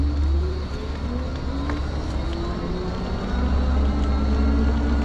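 An Aniioki AQ177 Pro Max 52V e-bike climbs a 15% hill on throttle alone, its motor whining in a faint rising tone beneath heavy, constant wind rumble, with no voices.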